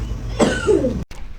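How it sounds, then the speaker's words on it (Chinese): A single sharp, close cough bursts out, followed by a brief raspy throat sound and then a short cut. "你出来咳嗽就行"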